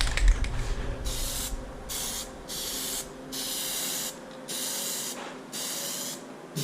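Aerosol can spraying black Plasti Dip onto Silverado truck wheels, a run of steady hissing bursts lasting about a second each with short gaps, close and clear.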